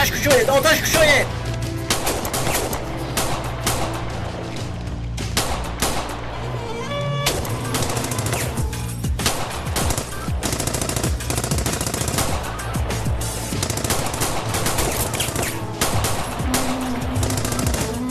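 Sustained gunfire and rapid machine gun bursts in a Persian-dubbed TV police drama, loud and dense throughout with sharp cracks and booms, mixed with shouting voices and score.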